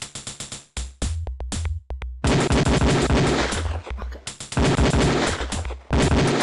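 Gunshots crack at a shooting range in the Police Quest 4 video game, loud repeated shots fired in quick bursts with short gaps between volleys.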